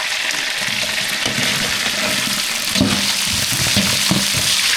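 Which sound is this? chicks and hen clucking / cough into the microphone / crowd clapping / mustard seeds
mustard seeds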